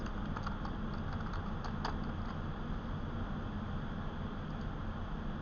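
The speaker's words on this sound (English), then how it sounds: "I'm going to type in a numbered list" Keys tapped on a computer keyboard while entering a numbered list in Word, a few faint clicks early on over a steady background hiss, then mostly quiet.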